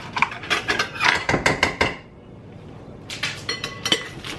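Taco salad with cheese is tossed in a bowl, giving a quick run of clinks and scrapes of utensils against the dish, a short pause, then another burst of clattering tosses.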